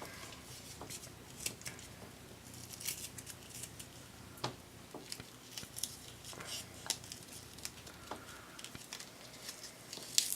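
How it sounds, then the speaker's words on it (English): Scissors snipping cord for a handmade journal cover, with repeated crisp close-up clicks and cuts scattered among soft rustling and handling noises. "So I'm going to cut off 2 pieces of cord."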